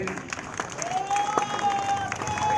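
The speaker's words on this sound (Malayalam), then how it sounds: "കളി ആരംഭിച്ചിരിക്കുന്ന എല്ലാവരും കൈയടിച്ച് സ്വീകരിക്കും" Crowd applause at a tug of war match in Kollam, Kerala, a steady outdoor patter of clapping with murmuring voices and a whistle-like tone riding over it.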